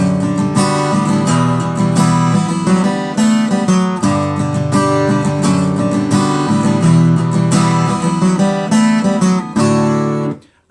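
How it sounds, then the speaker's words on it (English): Guitar lick from a song lesson, played an octave lower with open strings ringing; steady, full-bodied strummed and picked notes sound close and alone for about ten seconds, then cut off. "I like to add that on guitar an octave lower"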